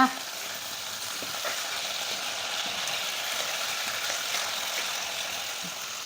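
Brinjal sautéing in oil while being stirred, producing a steady dense sizzle with faint scraping and crackle, close and even throughout, no voices.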